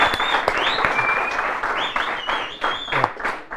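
An audience gives a continuous round of close, fairly loud clapping at a surprise celebration, with thin whistling tones rising over it at moments.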